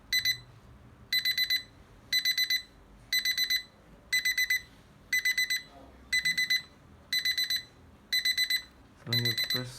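An LCD alarm clock beeps in evenly spaced bursts of rapid electronic pulses, repeating about once a second and growing louder, with faint background noise and a brief voice near the end.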